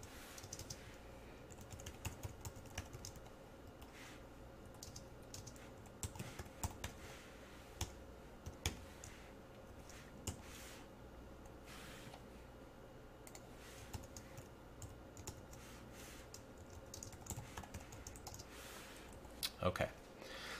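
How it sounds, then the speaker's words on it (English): Typing on a computer keyboard, a quiet, irregular run of rapid key clicks and taps lasting around twenty seconds, with bursts and short pauses, under faint background hum. "Now, as I'm typing this, try to figure out what's going on here before I go to explain it."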